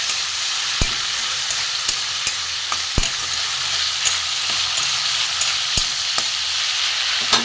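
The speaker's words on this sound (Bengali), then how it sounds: "আমি ভেজে নেব চিংড়ি মাছটা ভেজে নেবো" Prawns coated in salt and turmeric fry in mustard oil in a pan, making a loud, steady, close sizzle with occasional sharp clicks of a utensil against the pan.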